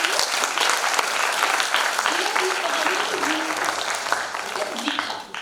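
An audience at an inter-school Hindi drama competition claps steadily and loudly for several seconds, a dense wash of applause that tapers slightly at the end.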